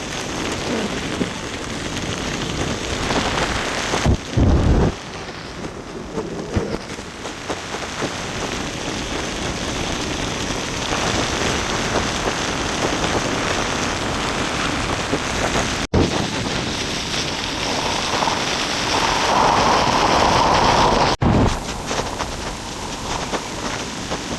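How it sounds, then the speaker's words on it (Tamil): Heavy rain during a cyclone in Mullaitivu pours steadily and loudly, with gusts of wind and occasional sharp knocks, constant throughout with no talking. "இப்போ முல்லத்தீவில் விடாமல் மழை பெய்து கொண்டிருக்குது"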